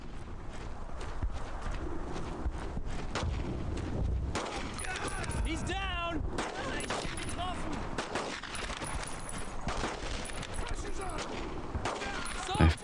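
WWII first-person shooter game Brothers in Arms: Road to Hill 30: rapid bursts of rifle and machine-gun fire crackle repeatedly across the scene, some near and some distant, with sharp transients over a busy battlefield background.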